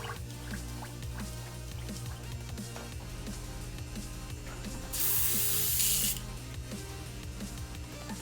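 An airbrush being rinsed lets out a single steady hiss of sprayed cleaning solution lasting about a second, over a constant low background hum, with faint drips and clicks around it.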